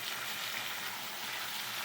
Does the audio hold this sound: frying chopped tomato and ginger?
yes